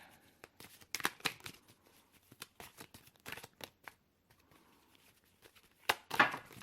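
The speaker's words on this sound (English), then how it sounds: "These are hard to shuffle." Tarot cards are shuffled and dropped close by in a series of quick, crisp riffles, flicks and slaps, irregular in rhythm with short pauses and a louder flurry near the end.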